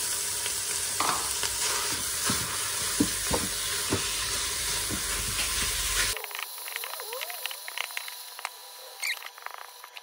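Ground meat sizzling and crackling as it fries in a hot Cookeo multicooker, with a steady close sizzle and scattered stirring scrapes; midway the sound thins to sharper, sparser crackles.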